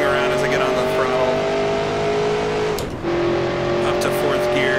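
A 1966 NASCAR Grand National race car in a racing video game, its engine droning loud and steady under throttle, with a brief dip near the middle before the revs pick back up, and someone talking over it.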